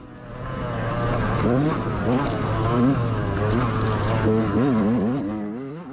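A dirt bike engine in a GNCC race runs rough and seems near to failing, a loud continuous drone with wavering, surging pitch and irregular revs, heard close and steady throughout.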